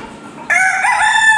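A long-tailed rooster kept in an air-conditioned room lets out a loud, sustained crow that starts abruptly after a moment of low background hum.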